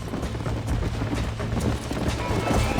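In Red Dead Redemption, horses gallop in a dense, continuous rush of hoofbeats, loud and close amid a busy wash of outdoor game noise; no clear whinny stands out.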